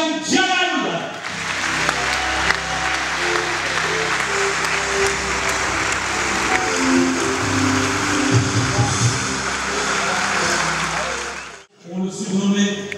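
A large audience applauds loudly and steadily for table tennis legend Jan-Ove Waldner at the ITTF Legends Tour, sustained clapping with music underneath, cutting off abruptly near the end.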